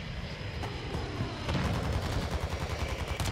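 MP5 gunfire in a first-person shooter plays in rapid, continuous bursts, dense and steady amid a loud, busy game mix.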